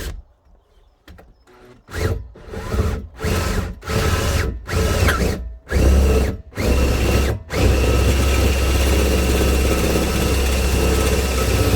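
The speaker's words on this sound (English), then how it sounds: "I've actually caught the side of the bracket there when I was drilling" A power drill bores into the spare wheel carrier bracket of a VW Crafter campervan: several short, loud stop-start bursts give way to a long, sustained grinding run, very close.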